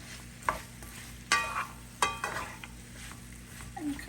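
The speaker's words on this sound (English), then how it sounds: "now we can also add the cut up onions" Cut onions fry in a pot for bigos, a Polish hunter's stew, with a soft steady sizzle broken by several sharp clinks of a utensil scraping and knocking against the pot while stirring.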